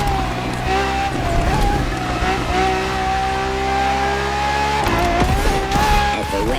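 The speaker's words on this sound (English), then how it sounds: "A Ferrari so extreme that it can never be driven on the road, nor qualify for any kind of official competition" An extreme Ferrari track racing car roars in the video game The Crew Motorfest, its engine climbing in pitch as it accelerates and shifts, loud and close, with short squeals and a voice talking over it.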